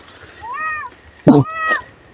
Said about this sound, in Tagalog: Pusa-pusa na naman.